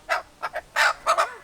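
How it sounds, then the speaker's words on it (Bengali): A black Kadaknath chicken lets out about five short, harsh squawks in quick uneven bursts, close and fairly loud with quiet gaps between. "আজকে নিয়ে চলে এসেছি কালো মুরগি"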